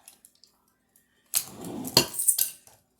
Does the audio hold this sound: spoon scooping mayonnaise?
yes